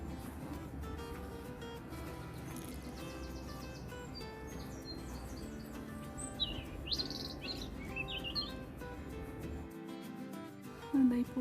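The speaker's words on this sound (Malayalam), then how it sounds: "കേട്ടാ കിളികളുടെ സൗണ്ട് കേട്ടോ." Birds chirping in an outdoor nature setting, soft scattered tweets and short trills over a steady background hum, faint and somewhat distant.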